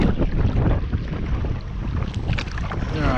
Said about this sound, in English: that wind is just absolutely blowing